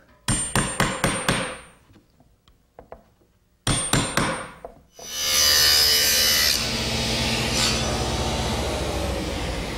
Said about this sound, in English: Now a sharp chisel is all I need to finish up the stop dado.